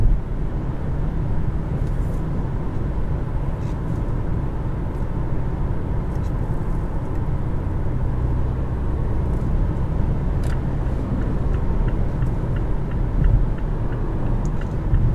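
A 2018 Mazda CX-5 picks up speed on cruise control after leaving the highway, with a steady, loud engine and road rumble running throughout and no voices heard.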